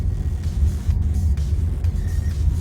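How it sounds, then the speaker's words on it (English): Steady low road rumble and engine hum inside a Waymo robotaxi, heard from the back seat as the driverless car rolls along, continuous and fairly close with no talking. "this is my first time doing any kind of robotic ride"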